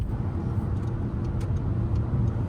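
Audi R8 car pulling away: a steady, loud, low engine and road rumble heard from inside the car, with no speech.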